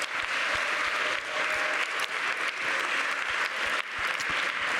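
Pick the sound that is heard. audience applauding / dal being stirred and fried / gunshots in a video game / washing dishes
audience applauding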